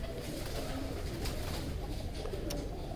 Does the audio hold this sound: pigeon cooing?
yes